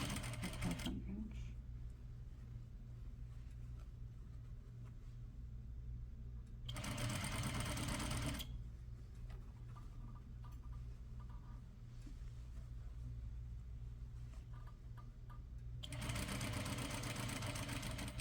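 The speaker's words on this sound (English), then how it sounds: "Again, I am aligning my edges and stitching" A sewing machine stitches a set-in sleeve along a half-inch seam, with two loud bursts of steady running under quieter hum and low talk between them.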